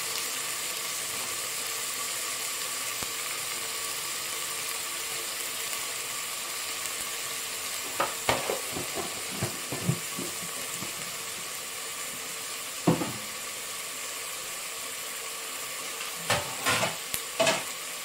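Rice with ginger garlic paste is stirred and fried in a pan, a steady soft sizzle running throughout, with scattered scraping clinks of a spoon against the pan growing more frequent in the second half.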